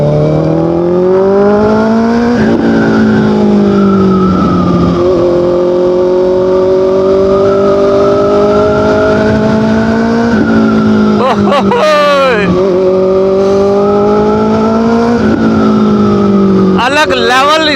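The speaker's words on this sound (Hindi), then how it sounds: "अलग लेवल इसकी बेस की साउंड आ रही है जो नॉइस कर रहा है ना ये इस टाइम।" A four-cylinder motorcycle fitted with an Austin Racing exhaust rides along, its engine droning steadily with rising and falling revs and a few sharp throttle blips, loud and close throughout.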